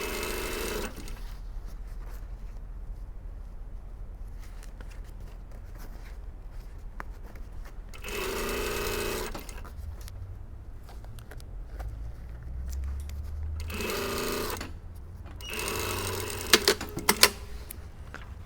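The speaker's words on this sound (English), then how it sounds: "Okay, so I've stitched those two layers together." A sewing machine stitches two bustier panel layers together in contrast thread, running in several distinct bursts separated by quieter pauses, with a few light clicks near the end.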